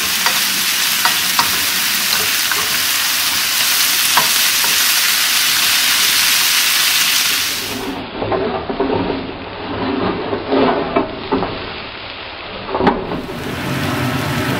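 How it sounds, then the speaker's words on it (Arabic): Onions, garlic and green and red peppers fry in a pan with a steady loud sizzle; partway through the hiss thins and becomes uneven clatter and bubbling, as if stirred, with no talking. "تشوفون انا دا قلي البصل خليته مع الثوم الاول، بعدين ضفت له الفليفله الخضراء والحمراء"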